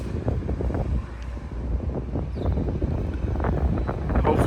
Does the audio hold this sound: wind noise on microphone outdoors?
yes